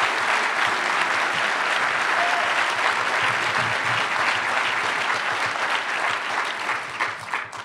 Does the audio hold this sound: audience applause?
yes